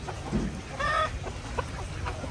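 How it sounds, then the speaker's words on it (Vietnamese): Chickens kept for meat cluck in a coop, with several short overlapping calls and one brighter squawk over a steady farmyard murmur, close and moderately loud. "Đây chỗ nhốt gà để thịt của cô đây."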